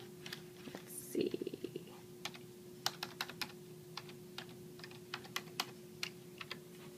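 Quick irregular keystrokes tapped on a computer keyboard while a username and password are entered at an eye care office, faint and close with short pauses between bursts of clicks, over a low steady hum.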